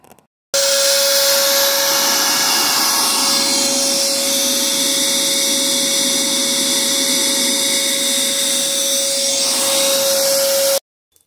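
Vacuum cleaner cleaning the engine bay of a Mercedes 300SD, a loud, steady motor whine with a constant tonal hum running unbroken for about ten seconds, starting and stopping abruptly, with no talk.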